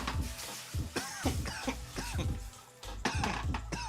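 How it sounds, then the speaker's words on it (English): A burst of several harsh coughs in quick succession, close and loud, with brief gaps between fits. "Sorry for that cough. That just came out of nowhere."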